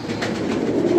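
Faqeer Gul pigeons, unpaired males kept in a loft, coo softly beneath a steady low rumbling background noise.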